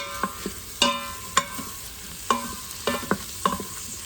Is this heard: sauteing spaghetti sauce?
yes